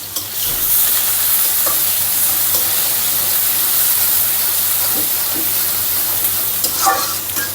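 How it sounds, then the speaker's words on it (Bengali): Food cooking in soybean oil in a home kitchen, a loud continuous sizzle and hiss with scraping stirs throughout, with a few sharper clinks near the end. "এখানে সয়াবিন তেল দিয়ে দিলাম"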